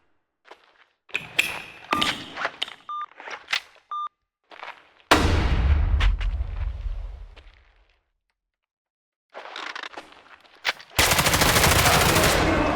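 Video game gunfire comes in rapid automatic bursts with hard thuds and brief electronic beeps, then a loud booming impact trails off before more sustained heavy firing closes out the passage.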